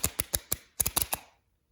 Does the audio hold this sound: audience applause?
no